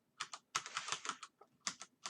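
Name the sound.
pressing keys on a computer keyboard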